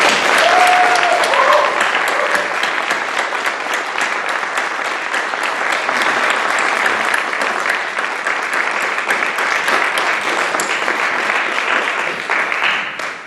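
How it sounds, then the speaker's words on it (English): Sustained audience applause for contestants at a regional Poetry Out Loud recitation contest, steady and fairly loud throughout, with a brief voice near the start. "round of applause."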